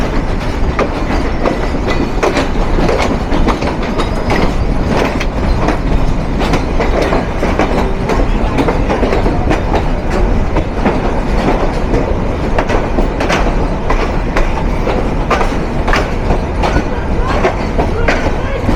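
The Nilsagar Express runs at speed with a loud, continuous rumble and steady clickety-clack of wheels over rail joints, heard close from inside or beside the moving train throughout.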